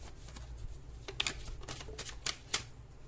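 Tarot cards are shuffled and laid out on a surface, giving a run of quick riffling flicks and sharp card snaps, close and crisp, with no talk.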